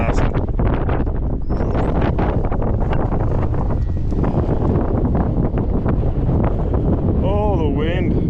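Wind blowing hard outdoors on a farm with calves, roaring steadily against the microphone with heavy low buffeting throughout, while a voice speaks faintly underneath.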